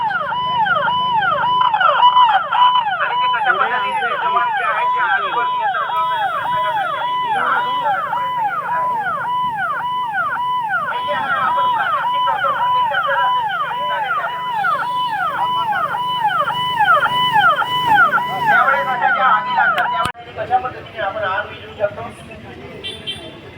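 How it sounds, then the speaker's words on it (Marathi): A wailing siren mounted on a motorcycle cycles rapidly up and down for about twenty seconds during an emergency mock drill in Ulhasnagar, loud and close, with a low rumble of traffic underneath. "सायरन वाजव ना मोटरसायकलवर आहे"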